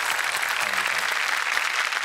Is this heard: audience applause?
yes